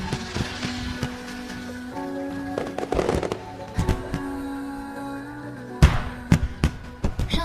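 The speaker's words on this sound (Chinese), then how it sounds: "小芳，快看烟花！" Fireworks burst at night in a Chinese drama scene, a run of loud, irregular booms and sharp cracks with crackling tails, some close and some farther off.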